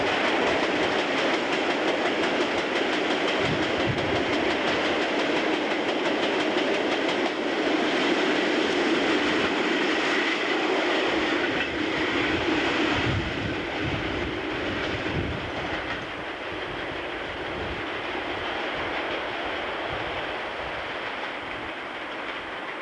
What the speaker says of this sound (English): the trains continue effortlessly